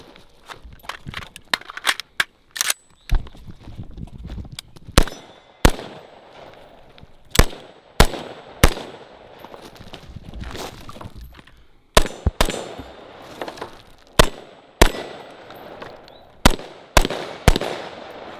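Gunshots from a recently cleaned, overgassed gun ejecting brass: sharp, loud, close reports spaced a second or two apart, some in quick pairs, with clatter between shots.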